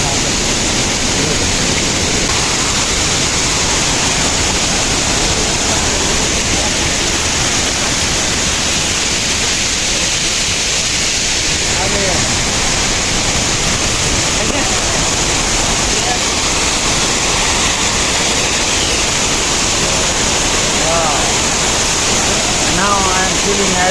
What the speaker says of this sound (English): This waterfall is one of the beauty of